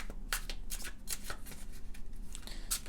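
A newer deck of Egyptian tarot cards riffled and shuffled by hand, repeated crisp flutters and slaps in quick bursts, close and clear.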